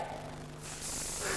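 Aerosol spray from a can in a comedy revue sketch, a short hiss that starts partway through and grows brighter and louder over a low background hum.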